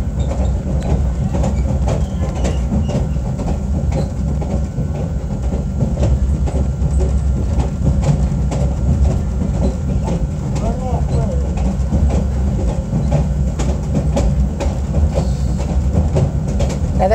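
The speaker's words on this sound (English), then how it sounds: "Not every day you hear jointed rail when you think about it." Freight cars rolling over old jointed rail on a Georgia shortline between Cordele and Americus, a steady loud rumble with faint repeated clicks running underneath, while a voice talks over it throughout.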